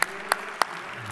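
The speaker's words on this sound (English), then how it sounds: "we need to have a round of applause for our MC" Three sharp, separate handclaps ring out at a live entrepreneurship event, spaced evenly about a third of a second apart over a quiet room.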